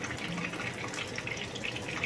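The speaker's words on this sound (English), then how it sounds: "I'm just going ahead and add a little bit of water to it." Water pours steadily into a blender holding sweet and sour chicken sauce ingredients, a soft continuous splashing trickle heard up close in a quiet kitchen.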